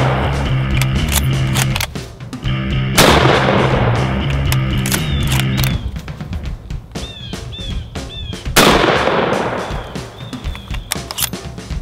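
Armor-piercing 7.62x54R rifle rounds strike an AR500 steel body armor plate: two loud, sharp blasts with ringing decay a few seconds apart, set among other noisy clatter, with no talking.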